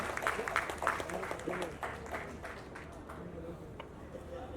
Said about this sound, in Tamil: நல்ல கைத்தட்டல் கொடுத்துடலாம் ஃபார் ஹீரோ பரத் அவர்கள்